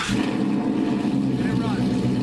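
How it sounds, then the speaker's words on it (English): An electric power steering pump on a car whose engine is off runs with a steady, close mechanical hum and low drone throughout, with someone talking over it. "And now the power steering pump is running"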